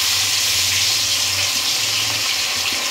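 Mourala fish hit hot mustard oil in a pan, producing a loud, continuous hissing sizzle with a low hum beneath it throughout.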